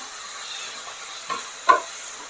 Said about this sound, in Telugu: ఆనియన్స్, పచ్చిమిరపకాయలు బాగా మగ్గాలి. ఒక 5 to 10 minutes మనం ఇలా కలుపుతూ ఫ్రై చేస్తాము.